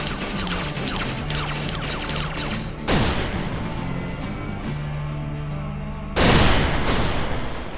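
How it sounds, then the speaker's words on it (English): Explosions in the video game Terra Tech wreck a tank, two sharp loud blasts a few seconds apart over a steady background of in-game rumble and engine noise. "that one explosion just totally ended my entire tank"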